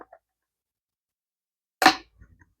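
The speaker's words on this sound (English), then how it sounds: "kind of click there. And that's how the screen's going to be mounted." A single crisp click as a Tesla front dash screen mount snaps into place, brief and close, surrounded by near silence with a couple of faint handling taps.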